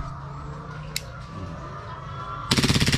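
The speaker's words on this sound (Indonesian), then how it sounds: "Jadi isinya itu ada 24 ya, 24 peluru yang kalau ditembakin langsung habis" An airsoft gun fires a rapid full-auto burst of about a dozen sharp, loud, evenly spaced shots near the end, after a quiet stretch of low background noise and a single earlier click.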